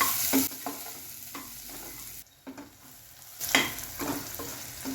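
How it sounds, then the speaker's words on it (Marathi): Sliced onion sautéing in a pan for matar paneer pulao hisses close by, with repeated spatula scrapes in an uneven rhythm, a brief lull, then a louder burst of sizzling. "आता आपण त्यामध्ये उभा चिरलेला कांदा टाकून घेणार आहोत यालाही आपण दोन ते तीन मिनिटासाठी छान परतून घेऊया"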